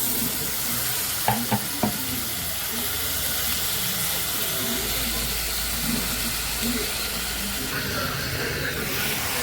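Tomatoes sautéing in a pan give a continuous loud sizzle and hiss, with a few sharp spatula knocks near the start and steady stirring scrapes, heard close up.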